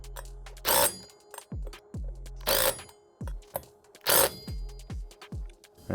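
Bolts are snugged down in a cross pattern on a Rascal Lite mini bike kit: repeated bursts of a hand ratchet clicking, each stroke a sharp metallic rasp followed by brief ticks, close and loud.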